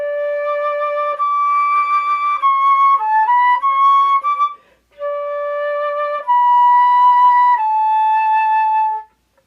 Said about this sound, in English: So now I'm going to play a little bit of a song on the flute